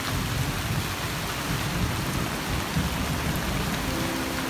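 Heavy rain pours down steadily in a forest during a meal stop, a dense, even hiss of drops on leaves and surfaces with a low rumbling undertone, loud and unbroken throughout with no voices.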